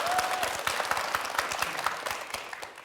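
Studio audience applause and cheering at a televised public forum in Gwangju's Buk District, a dense patter of many hands clapping steadily, with a faint voice briefly over it before it fades.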